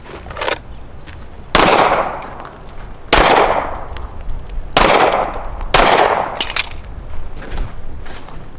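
Pistol shots fired at a target on a training range, four loud close reports spaced about a second and a half apart, each with a ringing decay, over steady background noise.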